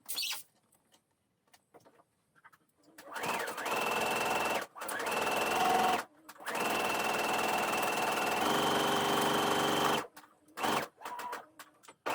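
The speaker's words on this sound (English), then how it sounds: "fold the fabric with right sides together and sew again" A sewing machine stitching a seam in folded fabric, running in long loud whirring bursts with short pauses between them and small handling sounds in the quiet gaps.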